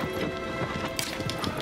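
Horse hooves clip-clopping in the game Shadow of the Colossus, a quick run of light, uneven hoof strikes over a steady background hum, brief and close.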